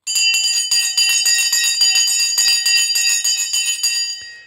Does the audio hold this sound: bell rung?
yes